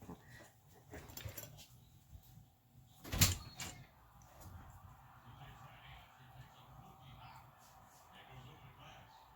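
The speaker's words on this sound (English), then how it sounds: "I'm going to show you guys my puppy." A pet puppy at home gives a short, sharp yelp or bark alongside a loud knock early on, then stays quiet under a low indoor murmur while a person talks.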